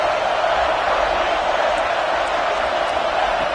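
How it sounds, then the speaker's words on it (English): A packed stadium crowd roars loud and continuous during a UCLA vs Michigan college football game as the defense stands near the goal line, a dense, unbroken wall of noise. "the crowd really making some noise now, trying to help out this defense to get this stop near the goal line"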